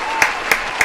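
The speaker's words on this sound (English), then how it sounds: "Clap it up Yeah, let's clap it up." A few people clap in a podcast studio, three spaced claps over a steady background hum, fairly close and moderately loud.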